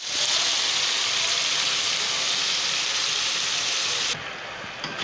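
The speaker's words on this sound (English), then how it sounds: "we're gonna keep sauteing the chicken for 5 minutes more" Chicken adobo sizzles loudly and steadily in a hot pan, a dense, hissing fry sound that holds constant before dropping slightly near the end, with no talking.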